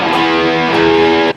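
Distorted electric guitar power chords slide from D up to E in a thick, continuous roar, playing a riff, loud and close before cutting off abruptly at the end.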